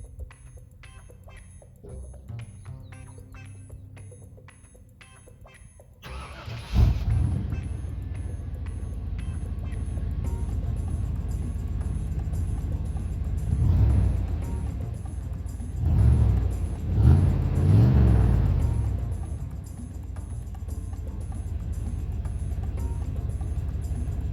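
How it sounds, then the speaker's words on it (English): A 1994 Chevrolet K1500 Silverado pickup fires up, heard from behind the truck. After a quiet stretch, a sudden loud cranking catch gives way to a steady, deep idle rumble, with a few swelling revs partway through. "start up from the rear of the vehicle too, so you can get what it sounds like from the rear of the vehicle"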